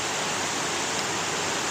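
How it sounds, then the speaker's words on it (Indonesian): A waterfall at Bantimurung roars as a dense, constant rush of white noise, loud and close, with no break or voice over it. "kita di sini menikmati keindahan air terjun"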